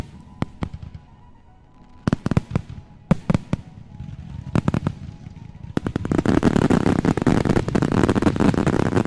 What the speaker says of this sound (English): Let's hit up some fireworks.